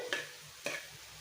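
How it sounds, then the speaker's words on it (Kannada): Tomatoes frying in a pan give two quick spoon scrapes over a faint, steady sizzle, close and quiet in a short snippet. "ಟೊಮೊಟೊ ಫುಲ್ ಬೇಯೋವರೆಗೂ ಚೆನ್ನಾಗಿ ಫ್ರೈ ಮಾಡ್ಕೊಳ್ಳಿ"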